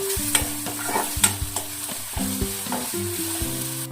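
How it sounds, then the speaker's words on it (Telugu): Ginger garlic paste frying in a pan on a medium flame for chicken fry, a steady sizzle with repeated stirring scrapes and a few sharp clinks, close and moderately loud with a low hum underneath. "కొంచెం అల్లం వెల్లుల్లి పేస్ట్ మగ్గేంత వరకు ఒక 2 నిమిషాలు మీడియం ఫ్లేమ్లో పెట్టి మగ్గించుకున్నామండి"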